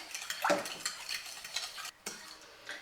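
Sugar is added to a yeast dough mixture and stirred, giving faint clinks of a utensil against a bowl and soft scraping strokes, close and quiet, with no voices.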